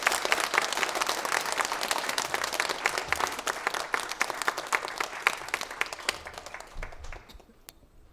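A church congregation claps together in sustained applause, loud and dense at first, then thinning and fading out near the end.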